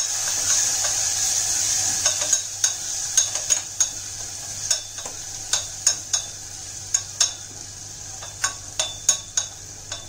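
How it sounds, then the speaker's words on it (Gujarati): Whole cluster beans being stirred with a pinch of turmeric and salt in a pan, giving a steady soft sizzle with sharp spoon scrapes and clacks against the metal, repeating roughly every second, close and alone. "મિક્સ કરી દઈશું પ્રોપરલી।"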